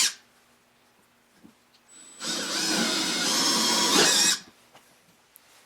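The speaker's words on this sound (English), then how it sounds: "now I have all of the holes drilled" A power drill bores a hole for a bolt, whirring loudly for about two seconds after a quiet start, then stopping abruptly with faint handling clicks around it.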